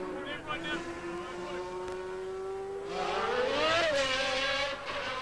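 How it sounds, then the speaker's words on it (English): The Lamborghini V12 engine of the Camel Lotus Formula 1 car sounds as a sustained high, buzzing whine during practice at the 1990 US Grand Prix, holding pitch, then swelling and rising in a surge before easing slightly. "there we see and hear a new sound in the back of the Camel Lotus, the sound of the Lamborghini V12 engine"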